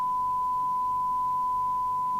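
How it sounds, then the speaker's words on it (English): A steady 1 kHz sine test tone from an FM CB radio detector under repair, a Maxcom 16E CB27/81 UK set, holds unbroken at even loudness throughout, with faint low hum beneath and no talk. "that 1 kilohertz tone is shown as that sine wave on the oscilloscope"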